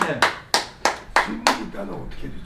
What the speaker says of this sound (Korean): 모두 박수로 하겠습니다